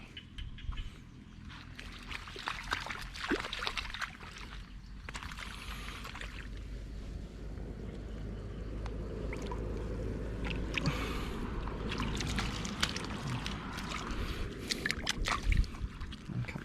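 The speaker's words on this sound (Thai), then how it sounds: "น้ำไหลเนี่ยครับ เมื่อคืนฝนตก" Rainwater runs and sloshes steadily through a frog farm's nursery ponds after a night of rain, a continuous close rushing and trickling with occasional splashes.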